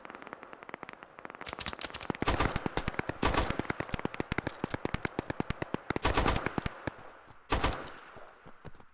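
Rapid bursts of automatic gunfire crackle continuously, dense and close, with sharp repeated shots and a few heavier volleys, no talking, in the video game Operation: Harsh Doorstop.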